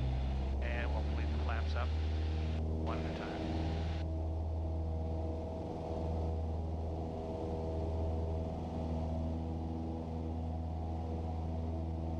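Engine of a small training airplane steadily roaring at power for a go-around during touch-and-go practice, a loud continuous drone heard from inside the cabin, with brief speech over it early on.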